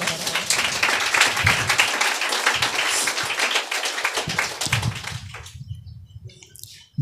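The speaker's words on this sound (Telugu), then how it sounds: "చప్పట్లు కొడతారా?" Congregation clapping during a Sunday church service, dense loud applause filling the room for about five seconds before quickly dying away into near silence with a few low thumps.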